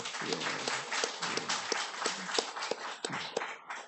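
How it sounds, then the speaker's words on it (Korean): A church congregation at a Wednesday evening worship service claps for the members who led praise and dance, a dense patter of hands with sharper individual claps standing out, fairly quiet and steady throughout. "우리 찬양과 율동을 통해서 하나님 앞에 영광 올린 우리 지체들을 위해서 박수 한번"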